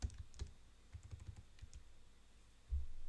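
Light keystrokes tap on a computer keyboard in a quick, uneven run of soft clicks, quiet and close. A single heavier thump closes the sequence.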